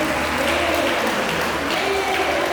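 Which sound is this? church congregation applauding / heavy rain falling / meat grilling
church congregation applauding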